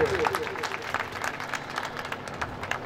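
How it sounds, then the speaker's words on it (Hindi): At a Shri Parshuram Janmotsav procession event in Todaraisingh, a crowd breaks into applause, a busy rattle of clapping that starts loud with a brief tone at the very start and then continues at a moderate level. "जोरदार तालियां तो बनती है,"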